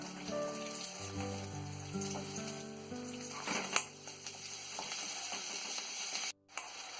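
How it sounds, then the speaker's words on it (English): Soya chunks and biryani spices with asafoetida frying in a pan, a steady close sizzle with occasional stirring scrapes and a brief clatter near the end. "Now let it all get fried."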